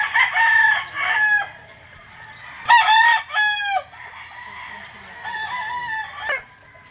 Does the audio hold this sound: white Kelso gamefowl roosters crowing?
yes